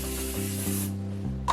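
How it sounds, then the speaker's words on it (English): Hairspray hisses from an aerosol can onto a vintage sponge-roller set, a steady continuous spray lasting about a second, close and fairly loud, with a low hum underneath. "I'm adding a little bit of the hairspray"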